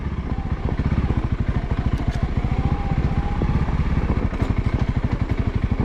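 A Honda CRF300L dual-sport motorcycle engine chugs in first gear in arctic cold around -10°C, producing a steady, close, rapid single-cylinder thumping with mechanical clatter throughout.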